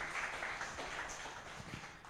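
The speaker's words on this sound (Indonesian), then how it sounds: "Yang setuju boleh berikan tepuk tangan yang meriah buat Tuhan Yesus" Congregation at a church worship service clapping in lively applause for Jesus, a steady, faint wash of many hands that continues throughout without a clear break.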